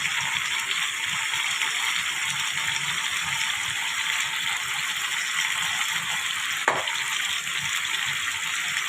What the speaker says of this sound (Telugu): ముక్కలు బాగా గట్టిగా అయిపోవాలి, డీప్ అయిపోవాలండి, డీప్ ఫ్రై అయిపోవాలి